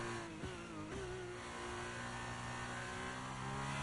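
F2 single-seater race car engine in the F1 23 game, revving hard with quick pitch drops at shifts early on, then holding a steady high drone, close and alone without voices.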